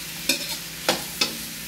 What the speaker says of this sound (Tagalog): Basta gisa-gisa lang.